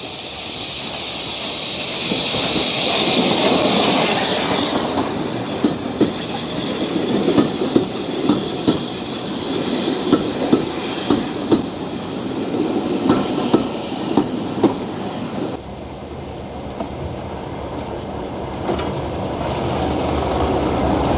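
A Hunslet steam locomotive passes on the North Norfolk Railway, its wheels clattering rhythmically over rail joints in a loud, steady clickety-clack under a hissing roar, which cuts off abruptly and leaves a duller rumble.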